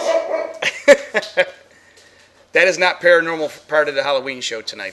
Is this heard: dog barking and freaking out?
yes